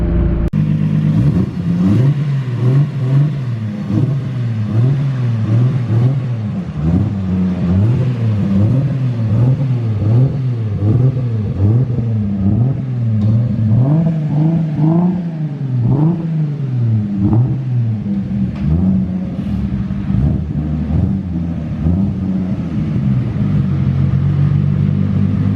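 A 650whp RB25-powered Nissan S15 accelerating hard through the gears, its engine loud and close, rising in repeated revving sweeps broken by quick shift dips, with no talk over it.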